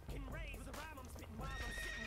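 A horse in a video game neighs and whinnies repeatedly in loud, close calls, with faint hoof clip-clop under the cries.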